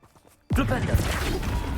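A Flipendo spell cast in the Hogwarts Legacy video game, a sudden loud whooshing burst after a brief quiet moment that sustains as a dense rushing, crackling effect.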